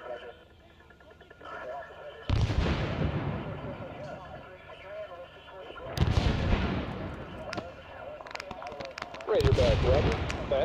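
Artillery fire from white phosphorus rounds in the video game Arma 3, set in the A Shau Valley, with heavy booming blasts arriving in bursts and rumbling over radio-style talk.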